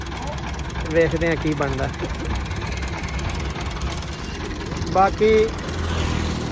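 A Ford 4600 tractor, 56 horsepower, labours to haul a loaded sugarcane trailer of about 45 tonnes up a bridge incline, its low diesel drone steady throughout, with people talking over it and a voice calling out.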